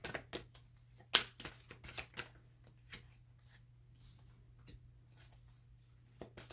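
Tarot cards being handled and drawn from a deck, scattered soft card slides, taps and flicks close by in a quiet room, one sharper snap near the start, no talk.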